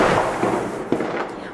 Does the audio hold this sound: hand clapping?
no